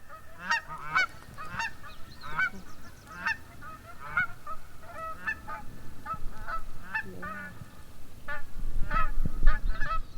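Dusky Canada geese honk repeatedly at a moderate distance on the Copper River Delta, a loose chorus of nasal calls spread steadily across the clip over faint background noise.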